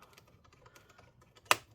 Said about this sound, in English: You hear it click, undo the second screw.